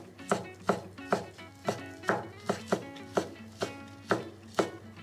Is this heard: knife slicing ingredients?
yes